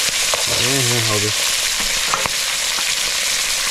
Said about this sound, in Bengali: গোটা গোটা মাছ ভাজা।